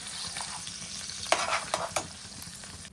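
A thick spice paste sizzles and spits in a hot pan while a spoon scrapes and stirs it, a few sharp clatters standing out over the frying.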